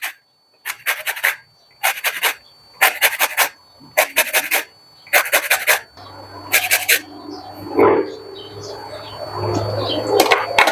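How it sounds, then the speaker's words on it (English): Washed lemon rubbed against a grater for zest, six quick rasping bursts of scraping strokes up close, followed by softer continuous scraping with a low hum in the background. "I have a washed lemon, and I'm just going to grate that in here"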